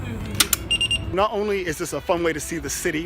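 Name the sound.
Mobike share bike unlock beep after scanning the code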